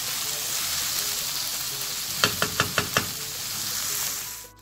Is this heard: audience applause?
no